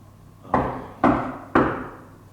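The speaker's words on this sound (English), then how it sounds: "Please respond to my knocking." Three evenly spaced loud knocks on a door inside an abandoned Freemasons hall, each with a short echoing decay in a large quiet room.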